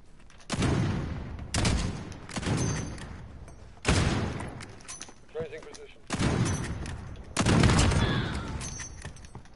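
Gunfire in a shooter video game, several loud bursts of shots in irregular clusters, each trailing off in echoing rumble, with a brief quieter gap between volleys.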